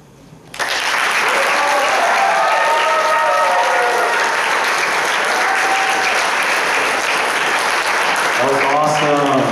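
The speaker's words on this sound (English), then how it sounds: "let's give a round of applause for all our first acts" An audience at the Bethany talent show bursts into loud, sustained applause that starts abruptly and fills the room. Cheers rise within it, and voices come through near the end.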